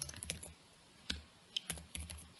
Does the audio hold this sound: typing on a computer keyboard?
yes